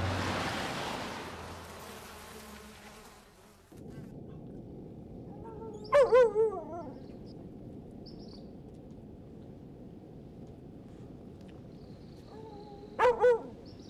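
Dogs bark in an abandoned area hit by a volcano, two short bursts of a few barks each, one near the middle and one near the end, over a steady low rumble of wind or surf.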